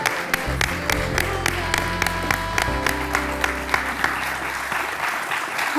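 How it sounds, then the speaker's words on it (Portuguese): Studio audience at a Portuguese afternoon television talk show applauds three arriving guests, steady clapping with a few louder claps standing out, while music plays underneath. "Um aplauso para as três."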